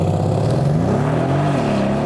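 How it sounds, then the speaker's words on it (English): A Bentley's engine revs hard and loud during a launch-control start, pitch climbing and wavering as the throttle is held, close and dominant. "Left foot on the brake, floor the throttle, get the revs."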